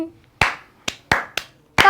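Hands clap five times in a slow, uneven rhythm, each clap sharp, close and loud, with near silence between them.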